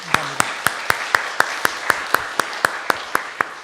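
A church congregation gathered for a fourth-Sunday-of-Advent service claps in a steady, even rhythm of sharp, distinct claps throughout, with little talk.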